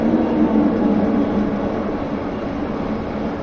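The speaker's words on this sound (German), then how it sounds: "Und unten kommt der ICE." An ICE train passes in Train Simulator, a heavy rumbling rush of rail noise that swells early and slowly fades while keeping up a dense low roar.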